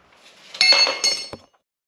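Light hammer taps on a WD-40-soaked coilover plate on a Toyota Prado 150 with about 100,000 km of grime: two or three short, bright metallic clinks up close, then silence.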